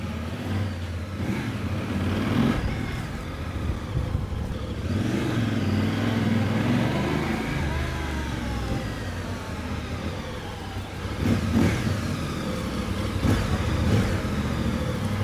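Voge DS800X Rally motorcycle engine running steadily and loud up close, with a few rising revs and a surge in throttle near the end, no talking.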